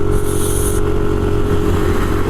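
A motorcycle engine revs and strains loud and close as it climbs a very steep uphill road toward Bukit Cilenguk in Boyolali, a steady droning roar with a brief high whine early on.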